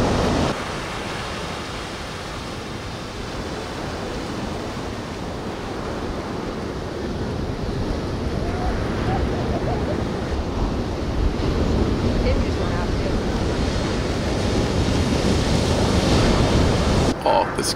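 Steady roar of ocean waves breaking at The Wedge during a big swell, a dense continuous wash of surf with wind rumble, growing slightly louder toward the end.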